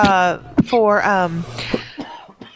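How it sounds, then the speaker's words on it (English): A few short, sharp coughs break up a stretch of talking, one person's voice continuing around them at close range. "Sorry, my coughing."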